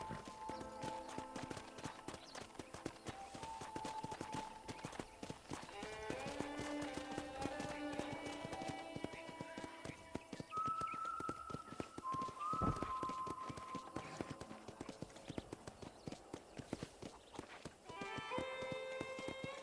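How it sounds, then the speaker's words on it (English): Steady rhythmic clip-clop of horse hooves at a trot in Red Dead Redemption, continuous and fairly quiet, with soft whistling tones and background music drifting over it. "let's see if you can still ride a horse"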